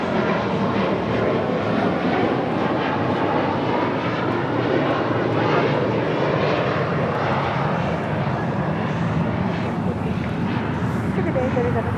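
JetBlue Airways airliner, flight 287 from Boston, arriving at LAX: a loud, steady jet engine roar that holds evenly for the whole stretch, with faint voices mixed in underneath.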